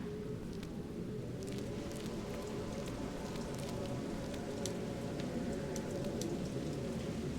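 Steady downpour of rain outside in the video game Fatal Frame: Maiden of Black Water, an even, constant hiss of falling water with scattered crisper drips, fairly quiet and alone without any voices.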